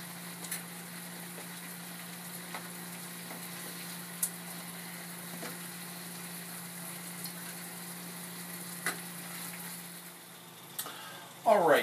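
Scallops sear in a hot pan with a steady, soft sizzling hiss over a low constant hum, broken by occasional faint clicks and a louder clatter right at the end.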